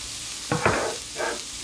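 Onions sizzling in a pan, a soft steady frying hiss with a few short bursts of louder crackle as they are stirred.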